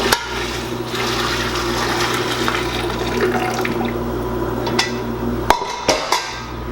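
Simmered cherry wine sauce with orange peel and cloves is poured out in a steady, close liquid rush. A few clinks of utensils follow near the end.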